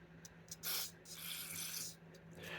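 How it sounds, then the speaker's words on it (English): Carb cleaner hisses from an aerosol can into an old motorcycle carburetor's jets in a couple of short, close bursts, with a louder sustained spray in the middle, over a faint steady hum. "maybe I can show you when I spray carb cleaner down here"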